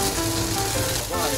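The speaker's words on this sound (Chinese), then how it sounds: "有没有听到吱吱作响？" Food sizzles steadily in a hot frying pan at close range, a continuous dense crackle that fills the whole moment without any speech.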